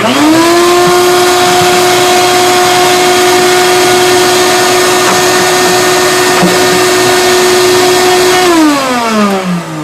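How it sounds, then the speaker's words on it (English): A very powerful suction device, used during a JLD Bridge Doctor system install, runs loud and steady with a strong whine that holds level for most of the stretch, then winds down near the end. "Very powerful sucking device."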